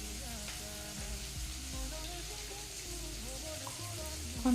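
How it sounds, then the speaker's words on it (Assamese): Capsicum and onion fry in a pan for chilli chicken, giving a steady close sizzle with occasional soft stirring scrapes. "এইফালে মই কেপচিকামখিনি মাজে মাজে লৰোৱাই আছোঁ।"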